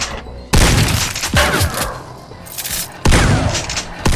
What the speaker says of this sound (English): The shotgun was also completely reworked. It now has a new model and a brand new sound